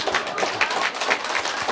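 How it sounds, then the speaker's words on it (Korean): A small audience at a Korean folk-story show claps in a quick, uneven burst, many hands together at moderate loudness, with faint voices mixed in. "박수 좀 쳐."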